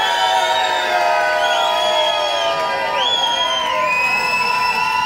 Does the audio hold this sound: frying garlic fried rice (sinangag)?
no